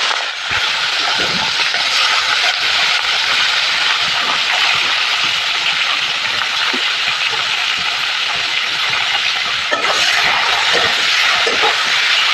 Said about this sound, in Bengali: মাছগুলোকে প্রথমে ভেজে নেব।